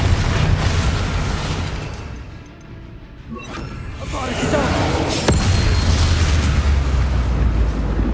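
A Bombarda blasting spell in the Hogwarts Legacy video game erupts in loud, rumbling explosions amid a dense game soundscape, with a sharp crack midway and heavy booming carrying on afterward.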